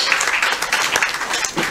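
A hall audience claps together to welcome a team at a gathering addressed by minister Kailash Vijayvargiya, a brief, dense burst of applause that stays loud throughout.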